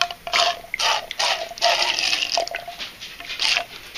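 Gun blue solution pouring from a bottle into a small container for blackening steel parts, heard as close, uneven splashing and trickling bursts of liquid with no talk.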